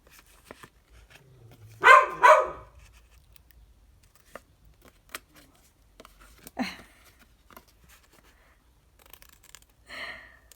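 A dog barks in a couple of short close bursts early on, with a fainter bark or two later amid quiet indoor handling noises.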